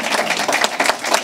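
A crowd at a public government award announcement in Brockton claps together. The short, close burst of many hands sounds lively and even, with no talking over it.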